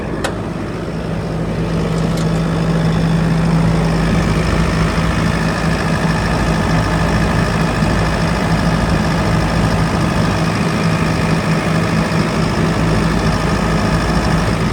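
A 2019 Kubota SVL65-2 skid steer engine idles steadily at close range, a continuous low rumble with a constant hum, with no talking over it.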